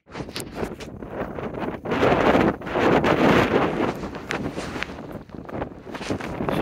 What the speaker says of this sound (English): And the wind's really windy.